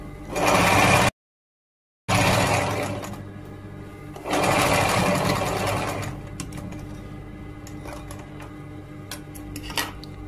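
Sewing machine stitching a panel of a men's robe, running in loud bursts of fast, rapid stitching separated by a brief pause and quieter stretches with light clicks.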